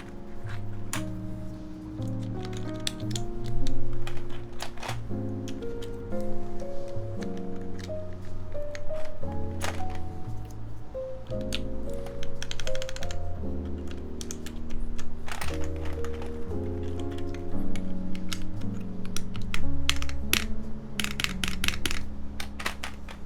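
Fingers type steadily on a mechanical keyboard with GMK Denim keycaps, a polycarbonate TGR Alice build: close, continuous clacky keystrokes in uneven bursts, with no talk heard.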